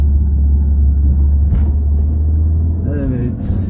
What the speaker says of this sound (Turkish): Bakın motor sesi toklaştı.